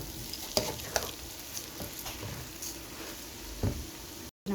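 Polao rice tipped into a hot pot and fried, giving a steady close sizzle with scraping stirs and a few sharper clacks of a utensil against the pot.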